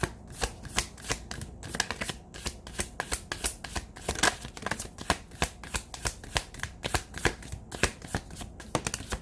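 Tarot cards are handled on a table in a steady run of quick, crisp riffling and slapping sounds, repeating rhythmically and close by without talk.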